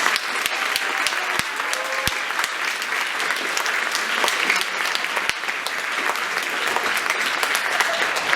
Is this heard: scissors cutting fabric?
no